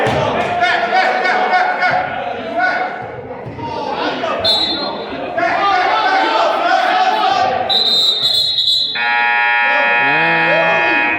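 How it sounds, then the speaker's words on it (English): A loud arena buzzer blares near the end of a basketball game, preceded by short electronic tones, over crowd noise, squeaking sneakers and an announcer talking. "And ignore the buzzer, ladies and gentlemen."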